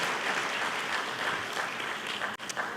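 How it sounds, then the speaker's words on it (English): Steady audience applause at a policy conference in Yerevan, a dense even wash of clapping at moderate level that briefly dips near the end before resuming. "So please join me in applauding David for his wonderful efforts"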